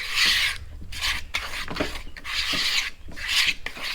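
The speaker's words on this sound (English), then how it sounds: "A couple good whisks in there." A whisk scrapes rhythmically through butter and powdered sugar icing in a bowl at a camping setup, close and loud, with four bursts of rasping strokes separated by short pauses.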